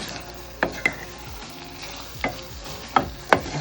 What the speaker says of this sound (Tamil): இதை நல்லா கலரி கொடுங்க